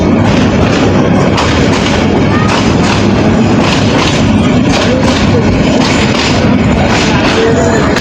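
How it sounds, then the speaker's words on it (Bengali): A train pulls out of a station and runs on, filling the space with a loud, continuous rumble and a steady rhythm of heavy thumps from the wheels over the rail joints. "তো এদিকে আমরা ট্রেনে চালিয়ে দিছি।"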